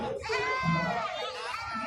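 A goat at a goat farm lets out a short, wavering bleat, heard close and lasting under two seconds.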